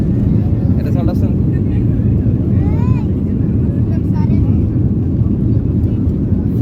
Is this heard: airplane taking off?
yes